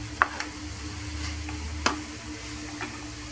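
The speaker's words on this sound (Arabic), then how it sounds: "غادي نزيد الخضر اللي سبق ليا ذكرت، وكنخلط مزيان" Courgette, pumpkin and other vegetables being stirred in a pan, a soft steady sizzle underneath with a few sharp clicks and scrapes of the spoon against the metal.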